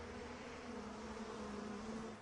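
A swarm of flies buzzes in a steady, faint drone that hums continuously without pause.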